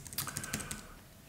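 Computer keyboard keys pressed in quick succession, a close run of light clicks and taps with uneven rhythm, fairly quiet and with no talk.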